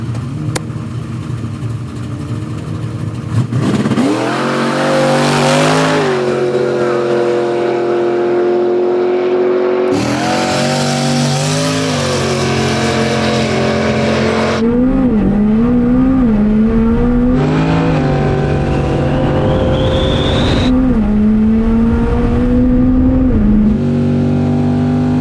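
McLaren cars launch side by side in a drag race, engines roaring up through rising revs with sharp gear-change dips, loud and sustained over about twenty seconds, no talk.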